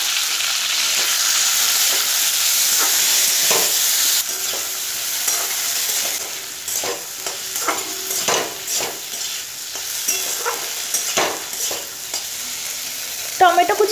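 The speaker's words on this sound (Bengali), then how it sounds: "টমেটোটাকে 2 মিনিটের মতো একটু ভাজা ভাজা করে নিয়েছি।" Chopped tomato fries in a pan with cauliflower and potato for a curry, a steady sizzle under repeated scraping stirs of a spatula, close and fairly loud.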